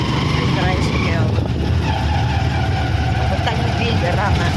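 Motorized tricycle engine in street traffic on a short ride to church: a steady, close rumble that runs continuously with passing-vehicle noise and occasional tire hiss.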